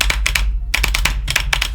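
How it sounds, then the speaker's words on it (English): Computer keyboard keys clatter in quick clustered bursts while a game is played, loud and close, with short pauses between flurries of rapid taps and no talking. "you're gonna hear a lot of keyboard tapping"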